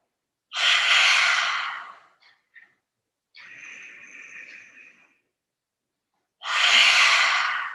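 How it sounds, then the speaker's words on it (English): A loud breathing exercise: two long, forceful open-mouth exhales with the tongue out, separated by a raspier, quieter breath and a couple of faint short sniffs, all close and without speech. "Exhale through the mouth. When it's getting nice and loud, tongue out, inhale."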